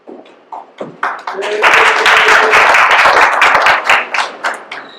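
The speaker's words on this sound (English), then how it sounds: "The treasurer always does draw the biggest round of applause in the room, doesn't he?" Applause for the treasurer at a general session starts with a few isolated claps, then swells into dense, loud clapping from a large room before tapering off.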